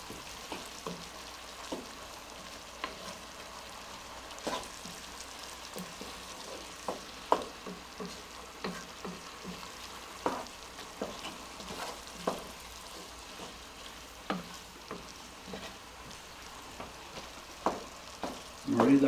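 Three garlic cloves frying in a soup pot for pasta e fagioli, giving a steady soft sizzle with scattered crackles and pops, close by and moderately quiet, no talking.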